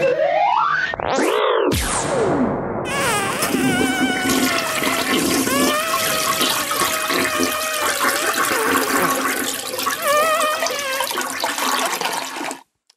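A toilet flushes in a short loud rush after a brief swooping tone, with steady roaring water and gurgling that continue for about ten seconds before cutting off.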